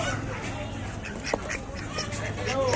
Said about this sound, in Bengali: দেখুন হাঁস কত ভর্তি